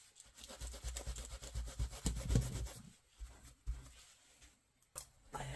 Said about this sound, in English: So I am taking this sanding disc here, trying to get lighter areas.